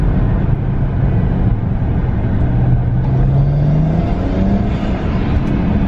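A BMW with the N54 engine accelerates in second gear toward about 2,000 RPM while suspected of a fueling issue; a loud, close, continuous engine drone rises in pitch steadily with no talk.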